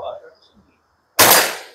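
A single sharp pistol shot at target practice with a Brazilian Imbel MD2 handgun firing at small white targets, a loud close crack after a brief stretch of faint speech and near silence, then decaying.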